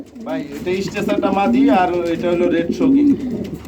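A breeding pair of pigeons, a male and a yellow-coloured female, coo nearby in repeated rising and falling throaty calls that fill the clip, with human speech audible beneath them.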